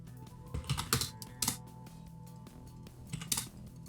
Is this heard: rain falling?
no